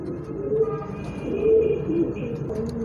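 Breeding pigeons, including Rampuri, Surkhy, Ferozpuri and Teddy types, give soft, low cooing calls that swell and fade close by, over a steady background murmur.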